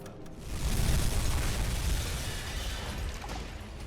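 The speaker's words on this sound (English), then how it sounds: "Another good strike there with the torpedo." A torpedo strike in a U-boat game lands as a heavy, booming explosion that swells quickly and rolls on as a dense, sustained roar, loud and without speech.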